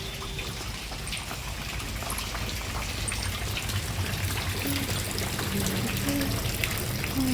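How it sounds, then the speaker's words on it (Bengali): Heavy rain falls outdoors on a street, a dense, even hiss that is steady throughout, with faint drips and splashes mixed in. "তো দেখো খুব বৃষ্টি পড়ছে"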